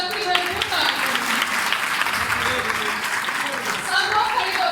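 An audience claps at a women's day seminar in a parish hall, a sustained round of applause with voices talking over it throughout.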